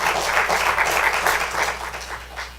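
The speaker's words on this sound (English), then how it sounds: "How about a round of applause for our candidates?" Audience applause at a Pennsylvania 113th Legislative District candidate debate, a dense, even wash of many hands clapping in a hall, steady throughout and tapering slightly at the end, with a low hum underneath.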